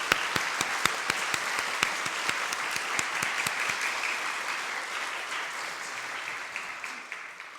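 Sustained applause from a church congregation celebrating a baptism, with sharp individual claps standing out early on, gradually thinning toward the end.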